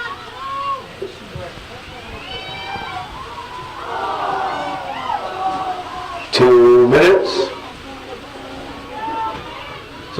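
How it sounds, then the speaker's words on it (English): A crowd at a girls' high school soccer game lets out a loud, rising "ooh" of reaction in a brief burst, with a commentator's voice heard before it. "So I assume we had something close happen there as the crowd went, ooh"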